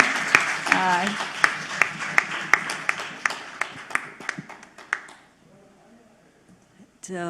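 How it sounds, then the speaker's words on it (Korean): Audience at a DMZ international peace symposium gives scattered, sharp claps alongside a speaking voice; the clapping thins out and stops, leaving near silence before a final brief sound. "박수 한번 쳐드리시죠"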